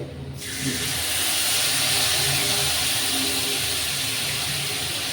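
Turmeric and chili powder paste hits hot oil in a pan while cooking a raw hilsa fish curry, bursting into a loud, steady sizzle and hiss that stays strong and continuous throughout, with no talking.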